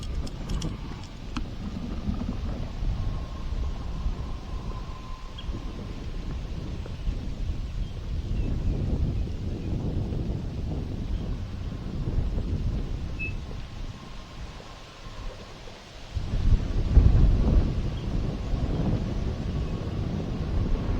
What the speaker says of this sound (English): As you can tell today, it's pretty windy